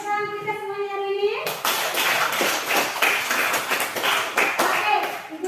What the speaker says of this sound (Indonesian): beri tepuk tangan kita semuanya hari ini.